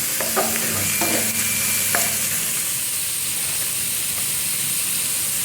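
Three beaten eggs go into a hot pan for a Thai minced-pork omelette, starting with a loud, broad sizzle and a short burst of stirring clatter, then settling into a steady, even hiss.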